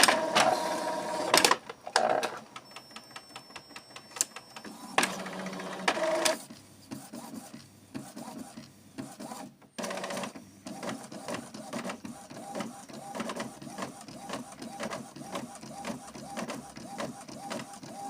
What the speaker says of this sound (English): the printer is stable, it's going to print out.